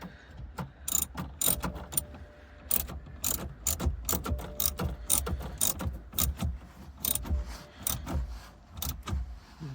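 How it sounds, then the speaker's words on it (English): Rapid, continuous clicking of a hand ratchet tightening a BMW F Series shift knob in a 3 Series car interior, close and steady with uneven bursts of pawl clicks and no voices. "That ratchet."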